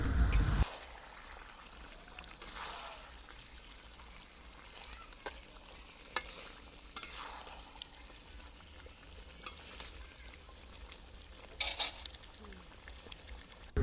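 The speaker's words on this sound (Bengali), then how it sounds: "তো ঢাকনাটা উঁচু করে আমি আবার একটু নেড়ে চেড়ে মিশিয়ে দিচ্ছি যে নিচ থেকে লেগে না যায় এবার আলুগুলো আমি দিয়ে দিচ্ছি" Chicken biryani meat and potatoes are stirred in a pot, with a low, steady frying sizzle broken by occasional spoon knocks and scrapes, and a louder clatter at the start and near the end.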